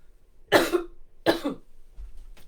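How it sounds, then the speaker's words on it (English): Two separate, forceful coughs about a second apart from a person speaking close to the microphone, followed by a faint throat sound in an otherwise quiet room. "I'm going to cough for a moment"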